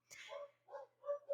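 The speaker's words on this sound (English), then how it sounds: "I'm sorry if you hear dogs barking." A household dog barks in a quick series of four short, fairly faint yips and woofs, close by and with no talk over them.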